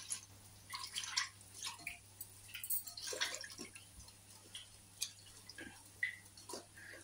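Dahi bhalle, fried lentil dumplings, dropped one after another into a pot of water, giving scattered soft plops and splashes at irregular intervals in a quiet kitchen.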